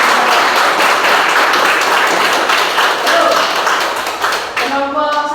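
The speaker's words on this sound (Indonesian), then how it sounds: "Tepuk tangan untuk" Applause from a classroom of students at an Islamic school lesson on the tahiyatul masjid prayer, dense steady clapping for a student group filling the whole stretch, loud and close, thinning slightly near the end as a voice begins to speak.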